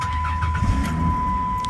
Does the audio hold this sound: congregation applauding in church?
no